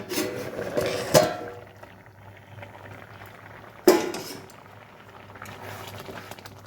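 A lid being lifted off a pot of boiling lentils, with two sharp metallic clanks over a low, steady simmering bubble in a quiet kitchen.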